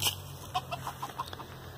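Several short, soft clucks from chickens at a steady pace, fairly quiet against a low background hum.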